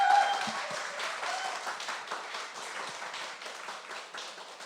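A church congregation at a Sunday worship service welcomes a missionary with steady applause, a dense patter of many hands that starts strongest and slowly eases over nearly five seconds, with no talking over it.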